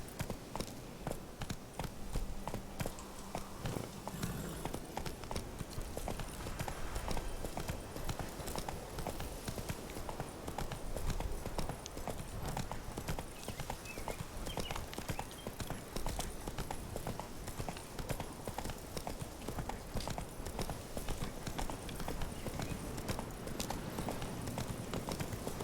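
Roach, a horse in The Witcher 3, galloping at a steady pace, with continuous rhythmic hoofbeats over ambient game sound for the whole stretch.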